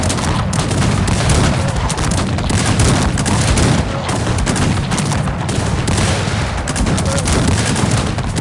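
Massed cannon and musket fire in a Cossacks 3 battle forms a dense, continuous roar of overlapping volleys and booms at a steady loud level throughout, with no clear breaks.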